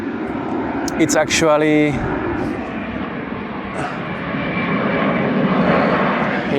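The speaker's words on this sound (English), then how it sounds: "the airport here is very interesting because sometimes those airplanes, they can't land for the first try, so they try for second time" An airplane flies near the airport on Madeira, a steady broad engine roar filling the whole stretch while someone speaks over it, with a brief harmonic whine appearing early on.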